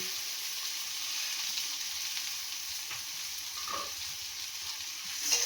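Fruit and sugar cook down in a pan for jelly, producing a continuous soft frying hiss with only faint, occasional stirring sounds and no voices.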